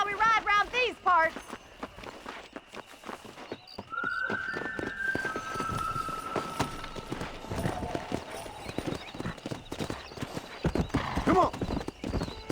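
Horse hooves clip-clop at a walk and then a quickening gallop on a dirt trail in Red Dead Redemption, with a whinny and game music, while people talk over the riding.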